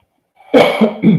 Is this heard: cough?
yes